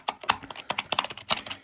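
Fingers type quickly on a cheap, water-resistant membrane computer keyboard, giving a close run of soft, muffled key presses in an uneven rhythm with no voices.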